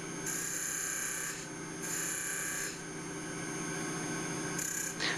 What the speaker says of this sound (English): so I'm just trying to turn the base over a little bit